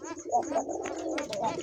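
Pigeons coo and call in a market among domestic and foreign breeds, a few soft repeated coos heard close with someone talking over them.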